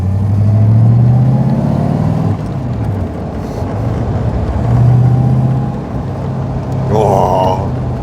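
A Daimler SP250 V8 rumbles and revs while driving, its low engine note rising and falling in smooth swells with a brief higher whine near the end, loud and close throughout.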